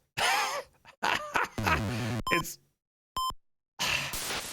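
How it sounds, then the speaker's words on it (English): A short electronic beep tone sounds once in the Winter Games video game, standing clear in a gap between louder grunting and groaning game sounds. "you didn't have to put a really loud beeping the entire time"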